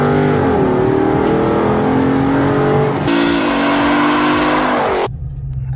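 A Dodge Charger SRT four-door sedan revs its engine loudly and close up, the note climbing and dropping in repeated surges before cutting off sharply near the end.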